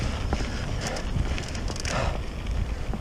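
Breezy wind blows beside a canal, a loud constant rumble and buffeting against the microphone with scattered rustles and no voices.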